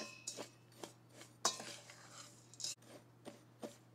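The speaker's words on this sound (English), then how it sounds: "Mix this up good." Flour, brown sugar and chopped nuts are stirred together in a small mixing bowl for a sweet potato souffle nut crumb topping, with a run of quiet, rhythmic scraping and clinking strokes at close range.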